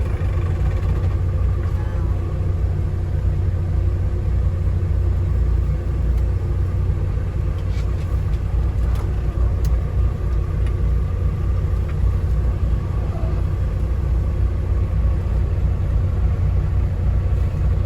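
A Kenworth W900 truck rumbles while driving, a deep, steady low engine drone with constant road noise that holds evenly throughout, close and loud with no breaks.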